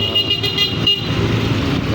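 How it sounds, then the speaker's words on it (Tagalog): Dense street traffic on a busy city road with many vehicles, a steady loud roar of engines and a car horn tooting through it. "Daming sasakyan dito."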